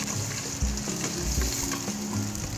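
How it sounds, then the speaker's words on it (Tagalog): Ginger sautéing in hot oil in a cooking pot, a steady close sizzle and crackle with occasional soft stirring bumps throughout. "Then maglalagay tayo ng oil kasi magigisa tayo ng luya."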